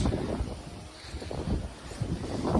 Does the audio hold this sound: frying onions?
no